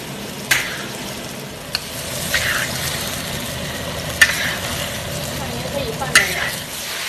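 Shiitake mushrooms stir-fried in a pan sizzle steadily up close, with sharp scrapes and clinks of the spatula against the pan every second or two.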